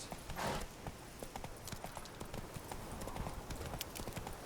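Horse hooves clip-clop steadily along a trail in The Witcher 3 game, a regular rhythmic trot at moderate distance under a constant ambient bed.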